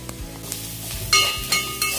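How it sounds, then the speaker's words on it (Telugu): Onions fry in a pan for chicken biryani, with a soft crackling sizzle close by and a few brief brighter spits and scrapes. "ఆనియన్స్ ఫ్రై అయిపోతున్నాయి"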